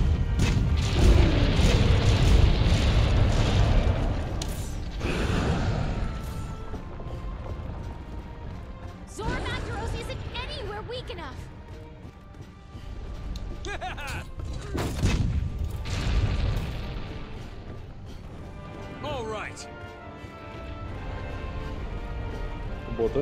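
Ship-mounted cannon in the video game Monster Hunter World fires in several loud, booming blasts spaced across the stretch, each with a heavy low rumble and a crackling tail, separated by quieter game background.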